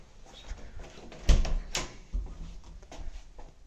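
Apartment front door opening into a small entryway, with a soft latch click, a louder thump as the door moves, then a few lighter knocks and rustles, fairly quiet and close.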